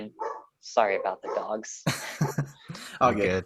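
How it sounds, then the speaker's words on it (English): Dogs bark in short bursts mixed in with two people talking during a casual podcast conversation. "sorry about the dogs"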